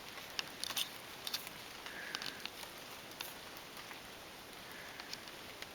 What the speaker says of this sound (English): I'm glad we're getting this rain. We need it so badly, and it waters the entire garden for us.